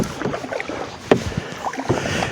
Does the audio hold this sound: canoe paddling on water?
yes